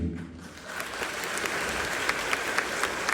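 Applause from a theater audience at a stage show about Mary Stuart, starting softly and swelling into steady clapping with a few sharper claps ringing out near the end.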